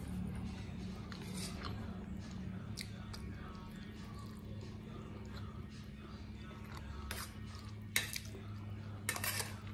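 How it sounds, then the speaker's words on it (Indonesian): Pindang fish that was already fried is stir-fried with spices in a pan, with steady low sizzling, scraping and clinking of utensils on the pan throughout, and a few sharper clanks near the end. "bumbu nggih dioseng-oseng, pindangnya yang sudah digoreng dimasukkan"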